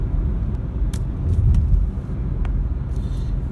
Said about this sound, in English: The engine has kicked in now, and I'm running on petrol.